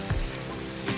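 Tofu and mushrooms fry in a pan with oyster sauce, giving a steady close sizzle and a couple of soft stirring scrapes.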